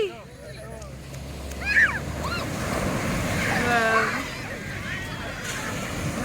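Strong ocean waves surge and wash at Tiwitiwi Beach in Legazpi, Albay, a broad roaring wash with wind buffeting the microphone, while several people exclaim and chatter excitedly over it.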